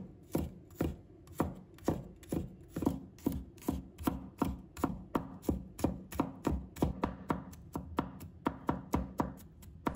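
Garlic minced with a kitchen knife on a cutting board: a long run of rapid, evenly spaced chopping taps, close and crisp, with no talking.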